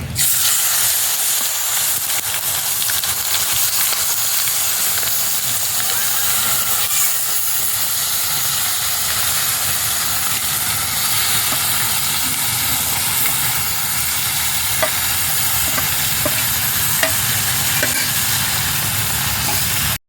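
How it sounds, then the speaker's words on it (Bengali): Mutton pieces slide into hot oil for a Bengali-style curry, and a loud, steady hissing sizzle with crackling runs close and unbroken throughout, with no voices. "এবার আমি মটনগুলোকে তেলের মধ্যে ছেড়ে দেবো"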